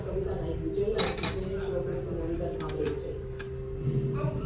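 A little girl playing at cooking with toy pots and utensils, making a few light, scattered metallic clinks and taps, with voices talking over the play.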